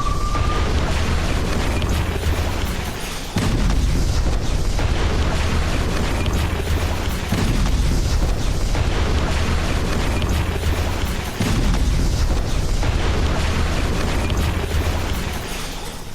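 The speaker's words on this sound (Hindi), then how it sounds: "गाजा में रात भर हुए विध्वंसक हमले धमाकों से फिर दहला उत्तरी गाजा का क्षेत्र।" Overnight strikes in northern Gaza boom through a dense, continuous wall of low rumbling blasts, with several heavy explosions landing around the 3, 7 and 11 second marks over constant loud roar, no voices.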